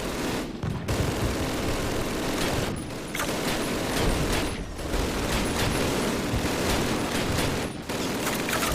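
Mortar and gunfire from the video game Call of Duty roar as a dense, continuous barrage with a few brief gaps, loud and close throughout.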